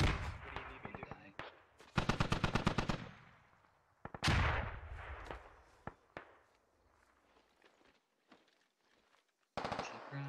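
Close automatic rifle bursts and single shots from a military shooter game ring out in rapid rattling volleys, with separate sharp cracks and quieter stretches between them and brief radio-style voices in the pauses.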